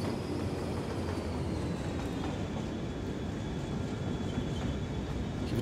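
In the Cities Skylines video game, a train rolls along rails with a steady rumbling drone and a faint high whine, continuous at moderate distance with no speech.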